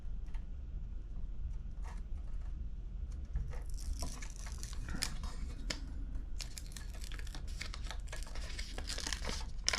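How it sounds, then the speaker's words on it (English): Protective paper is peeled off the screen of a SellEton SL-7510 scale indicator faceplate, giving close, dry crinkling and tearing crackles that grow busier partway through. "Don't forget to take the paper off on the screen so you can see through it."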